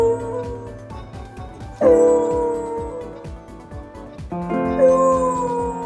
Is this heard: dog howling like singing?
yes